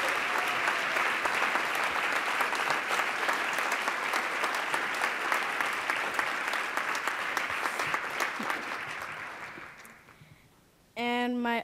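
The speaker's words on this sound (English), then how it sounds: "Please give him a round of applause." Sustained audience applause at a STEM leadership breakfast, dense steady clapping that gradually fades out, followed by a brief burst of speech at the end.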